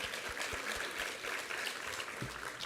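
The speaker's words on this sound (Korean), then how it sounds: "우리 하나님께 감사와 영광의 박수 올려드리겠습니다." A Sunday service congregation gives applause of thanks, a steady, soft wash of many hands heard from a distance in a large room.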